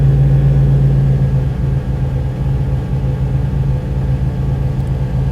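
A car engine is held on its rev limiter with ignition cut, giving a loud, steady, droning rumble that runs unbroken throughout.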